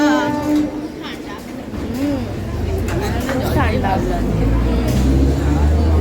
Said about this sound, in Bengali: আমরা চলে এসেছি দমদম স্টেশনে। এখান থেকে আবার হচ্ছে আমরা ট্রেনে করে যাবো ব্যারাকপুরে।